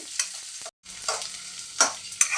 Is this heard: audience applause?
no